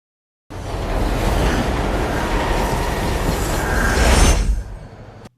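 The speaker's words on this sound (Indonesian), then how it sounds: "menempel pada kereta yang sedang bergerak" A moving subway train rumbles past close by, with a broad, loud roar of wheels and rails that builds steadily, swells to a peak near the end and then cuts off, with no voices.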